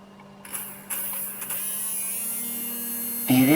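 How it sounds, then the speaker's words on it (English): A small electric motor from a toy robot runs on about 3.1 volts, a thin steady whine and hum close by, with a few clicks as clips connect and a louder shift in pitch near the end. "So now, I'll just test to see if this motor is turning."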